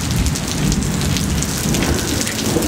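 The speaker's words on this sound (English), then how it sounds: "It's raining." Heavy rain pours down during a flood, a loud, dense, unbroken hiss with no gaps and no voices.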